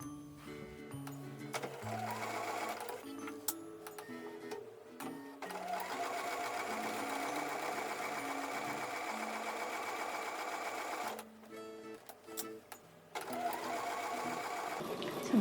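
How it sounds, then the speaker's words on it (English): Sewing machine stitching quilt block seams for a card trick block, a steady mechanical whir with rhythmic needle clatter running almost continuously, briefly pausing near the middle before resuming, close and fairly loud with no talking. "I'm going to sew with the seams up this way so that"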